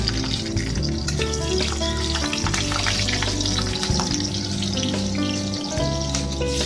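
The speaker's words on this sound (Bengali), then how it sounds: "আর এখন আমি তেলের মধ্যে দিয়ে দিলাম কালো জিরা আর কাঁচা লঙ্কাগুলো।" Black cumin seeds and green chilies frying in hot oil, a steady dense sizzle that fills the whole stretch, with music-like tonal layers running underneath.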